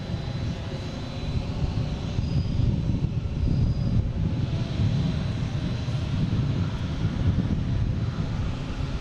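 Jet airliner landing at busy Boston Logan airport at night, a steady loud low engine roar with broad rumble throughout, some wind buffeting, no talk.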